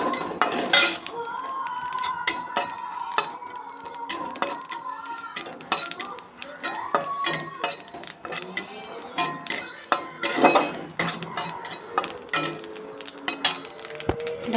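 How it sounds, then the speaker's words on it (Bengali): Cumin seeds dry-roasting in a pan as fuchka spice is made, with a metal spatula clinking and scraping against the pan in irregular bursts, some sharp knocks standing out over a quiet background. "জিরে কটা ভেজে নেব।"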